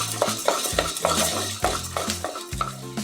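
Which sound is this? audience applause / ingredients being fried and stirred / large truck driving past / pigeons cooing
ingredients being fried and stirred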